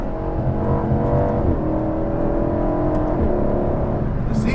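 A 2021 Aston Martin V8 Vantage Roadster pulls under power with a loud, close, steady engine drone and whirring road noise, rising slightly in pitch as it runs on without interruption.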